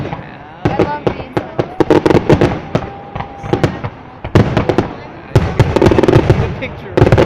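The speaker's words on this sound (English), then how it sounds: "Yeah, that was heartbeat. A fireworks heartbeat." Rapid volleys of fireworks bursting in a heartbeat-style pattern, loud and close with crackling sharp booms repeating throughout, while people talk excitedly in the background.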